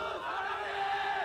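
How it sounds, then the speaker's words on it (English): A crowd of fans chanting in unison, heard as a loud, sustained chorus of many voices for just over a second with no other talk. "Like there's a whole crowd just chanting that."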